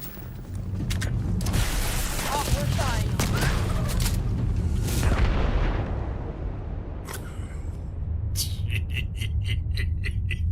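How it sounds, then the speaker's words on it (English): An explosion in the video game Starfield, a dense roaring blast with crackling debris that rumbles on for several seconds, then dies into clicking mechanical ticks. "That explosion was no joke."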